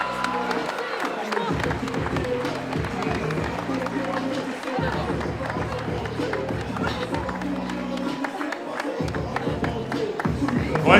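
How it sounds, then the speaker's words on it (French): A crowd applauds and cheers steadily at a women's boxing bout after the winner is announced, dense and sustained, with a voice over a loudspeaker heard under the clapping. "qu'on applaudisse bien fort Sonia Dean"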